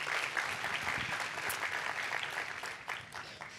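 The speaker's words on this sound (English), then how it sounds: "we can applaud for all those people." A church congregation applauds during a Mother's Day service, a sustained wash of many hands clapping together at moderate loudness, with faint voices mixed in.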